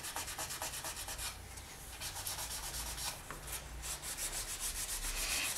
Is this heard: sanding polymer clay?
yes